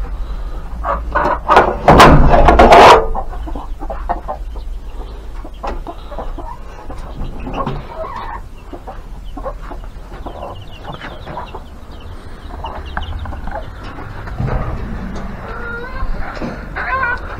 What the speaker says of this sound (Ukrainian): Зараз я випускаю наших курей.